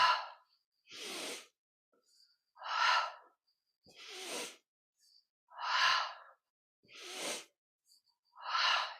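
Deep, forceful breaths during a yoga practice, each a loud rushing exhale or inhale repeated roughly every second and a half, close to the microphone in an otherwise silent room.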